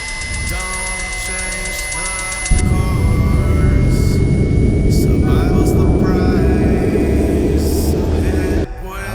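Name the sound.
S-17 hypersonic space plane flying, sci-fi film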